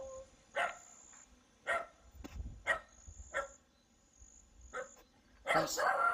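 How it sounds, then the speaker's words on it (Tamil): Dogs bark several times in scattered bursts, some louder and nearer, others fainter, with a longer run of barking at the end. "கூடவே நாய் குலைக்கிற சவுண்ட்லாம் கேட்குது கைஸ்,"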